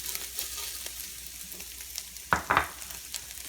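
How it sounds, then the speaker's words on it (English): Hot kicked-up baked beans sizzle steadily in a pan as sugar is added and stirred in, with a couple of brief spoon scrapes standing out over the continuous frying hiss. "So I add my sugar just so it can caramelize just a bit more. Give that a nice stir."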